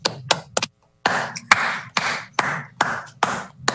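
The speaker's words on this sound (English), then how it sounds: "Let's give these guys a round of applause" A few people at a city council meeting clap in sparse, distinct bursts, with individual claps sharp and close and a short gap early on, more like scattered handclaps than full applause.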